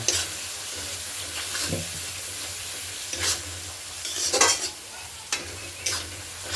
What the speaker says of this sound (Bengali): সামান্য পরিমাণে জল দিয়ে মশলাটা কষিয়ে নেব।